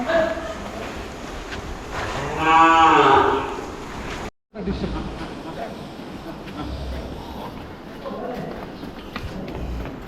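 A cow on a cattle farm in Bangladesh lets out one long, loud moo, followed by farm ambience with people talking in the background.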